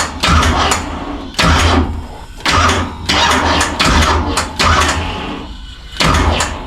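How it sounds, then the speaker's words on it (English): A Big Block Chevy drag-racing engine is turned over by the starter, cranking loudly in repeated bursts of a second or so separated by brief pauses, close by and with no talking over it. "Okay, so I'm going to turn my motor over."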